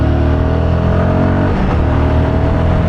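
A Royal Enfield Guerrilla 450 motorcycle engine held at full throttle, a loud, steady drone with a dense low rumble that stays constant throughout, with no voices.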